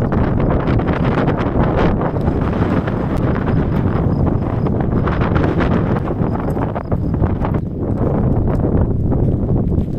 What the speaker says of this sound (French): Il y a beaucoup de vent et il fait carrément froid en fait.